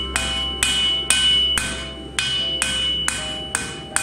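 A hammer strikes the chamfer of a dagger blade laid on an anvil, nine evenly spaced ringing metallic blows about half a second apart, each leaving a long bright ring, loud and close with no talk.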